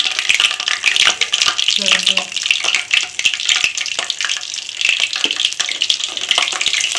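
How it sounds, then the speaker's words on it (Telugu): Onions go into a pan of frying whole spices (bay leaf, cloves) for a mutton and chicken curry, giving a loud, continuous sizzle with scraping stirring clicks throughout. "ఇంకా ఉల్లిపాయలు కూడా వేసేసుకుంటున్నాను."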